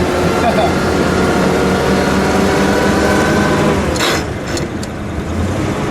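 A 1931 Hudson Series U Phaeton driving, its engine and road noise a steady loud rumble throughout, with a brief mechanical clunk near the end.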